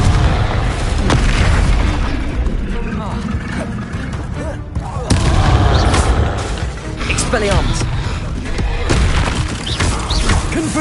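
Repeated booming fire-curse explosions in the video game Hogwarts Legacy, heavy deep blasts with crackling debris, loud and close, bursting again and again while a voice shouts the spell incantation over them.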